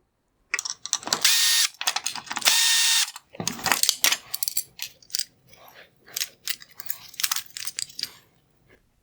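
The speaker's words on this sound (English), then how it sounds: "I'm going to remove the T10 torque screws holding it together" A screwdriver works T10 Torx screws out of a Jaguar F-Type LED headlight assembly, giving close, crisp ratcheting clicks and scraping bursts, some long and sustained, others short and irregular, with quiet gaps between.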